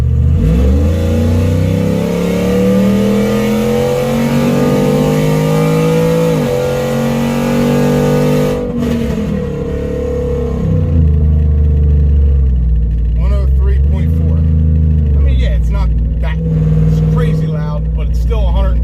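Loud, sustained roar of a cammed 5.7 HEMI with the exhaust cutout open at full acceleration, heard from inside the cab as the revs climb steadily and then shift, with a voice talking over it near the end.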